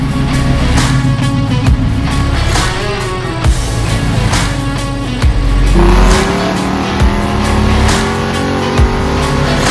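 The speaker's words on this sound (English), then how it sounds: "once you pop the hood, you floor the gas pedal, that's when you'll know this thing means business." A supercharged 1968 Chevy Camaro RS/SS engine revving hard as the gas pedal is floored, loud and close with rising and falling roars and a whining supercharger tone, no talk.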